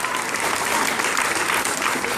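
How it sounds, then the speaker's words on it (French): A theatre audience at a stage hypnosis show claps loudly and densely in one continuous burst, with no talking over it. "on les applaudit très fort"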